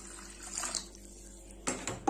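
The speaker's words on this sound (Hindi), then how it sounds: "आप देखिए मैं इसमें ठंडा पानी डाल रही हूँ" Cold water splashes over boiled macaroni in a pot or strainer, a soft, quiet trickle that breaks into a few louder splashing bursts toward the end.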